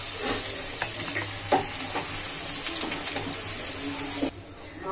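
Crabs coated in salt and turmeric frying in hot oil after potatoes, a steady crackling sizzle with scattered pops and occasional utensil knocks, dropping off abruptly just before the end.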